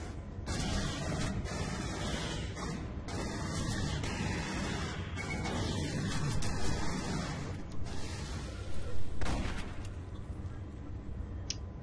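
Dense, continuous gunfire in the sci-fi shooter game Aliens: Colonial Marines, a roaring wash of rapid shots and blasts with a few louder bursts, sustained throughout at moderate level.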